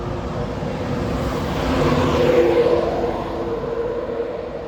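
A passenger train at Doncaster station swells in a steady rumble and hiss, rising to a peak midway and easing off, with no voices.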